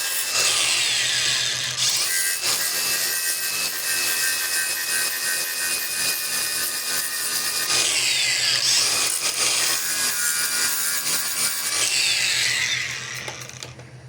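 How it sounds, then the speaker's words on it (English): A wire wheel scrubs rust off a metal plate from a 1927 Chevy axle in a garage, a continuous harsh abrasive whir that surges in two long bursts and eases off at the end, with no talking. "take the wire wheel, clean up the metal plate"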